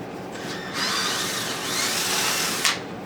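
A power drill fitted with a three-eighths drill bit boring into a workpiece, a close, steady high whine that rises partway through and ends with a sharp burst.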